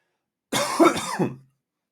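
A single harsh cough-like throat clearing burst, close and fairly loud, lasting about a second, with silence before and after.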